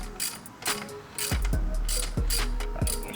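A ratchet wrench loosens a bolt on a Mazda RX-7 FD alternator, giving several bursts of close, sharp mechanical clicking in quick succession.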